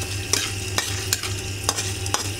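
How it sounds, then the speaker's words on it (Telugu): Dried red chillies, cumin and urad dal fry in oil in a pan, giving a steady close sizzle punctuated by regular scraping strokes of a stirring spoon. "ఇవన్నీ వేసి కొంచెం బాగా వేగనిద్దాం"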